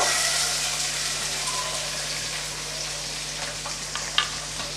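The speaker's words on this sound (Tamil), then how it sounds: "நல்லா வதக்கி விட்டுறலாம்" Two large, finely chopped onions fry for chicken curry in a pan, a steady close sizzle over a low hum, with a single sharp utensil tap near the end.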